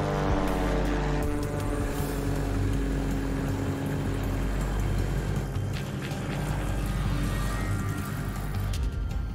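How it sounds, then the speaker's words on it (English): A propeller airplane engine drones loud and close during a test flight before a delivery flight across the North Atlantic. The tone holds steady with a continuous throbbing hum throughout, and no voices are heard. "The engine sounds good though so far."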